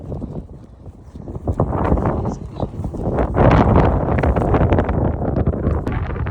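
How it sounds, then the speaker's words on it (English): Strong wind blowing across an exposed fell ridge in the English Lakes, loud gusty roaring buffeting the microphone, rising and falling throughout with bursts of rumble. "There's the promised wind. Woohoo! That's breezy."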